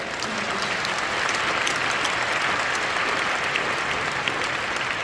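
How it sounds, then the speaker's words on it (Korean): A congregation at a Korean church Easter prayer meeting at Yoido Full Gospel Church claps in a dense, continuous round of applause, loud and even throughout. "우리 박수"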